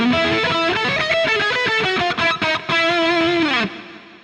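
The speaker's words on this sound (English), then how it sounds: "Nice sounding reverb. It doesn't really mush up the sound." Distorted electric guitar through an Eventide H3000 reverb preset, miked with a Royer 121 and a Shure microphone, plays a sustained melodic phrase with a subtle reverb tail, loud and close, ending as the last note fades.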